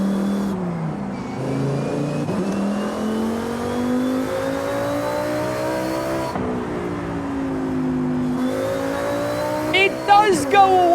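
Car engine revving in the racing game Forza Horizon 5, a steady droning roar with rising and falling pitch throughout, loud and continuous, with a brief burst of sharper noise near the end.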